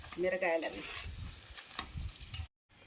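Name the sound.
chillies frying in tempering oil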